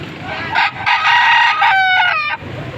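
A rooster crows loudly nearby in one long cock-a-doodle-doo, with faint clucking around it, among many chickens at a poultry sale in Padre Garcia.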